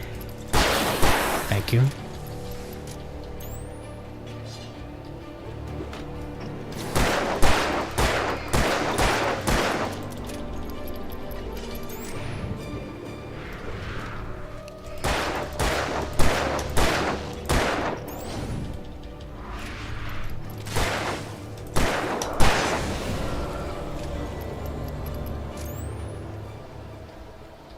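Bursts of gunfire from shooting in Alan Wake Remastered come in several loud clusters of rapid shots spread across the clip, with a person talking briefly between them.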